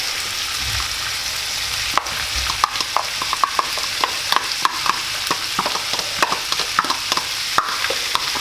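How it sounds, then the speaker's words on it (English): Crab meat goes into a frying pan with prawns for a ravioli filling, giving a steady bright sizzle with frequent small clicks and scrapes as the mix is stirred, close and continuous with no talk. "And now we're going to add our crab meat."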